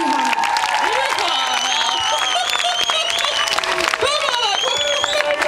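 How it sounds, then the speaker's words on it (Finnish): Audience at a stand-up comedy show at a Turku youth festival breaks into steady, dense applause with scattered cheers and whistles, a continuous crowd roar under shouted voices. "Kiitos Tarjalle, raikuvat aplodit!"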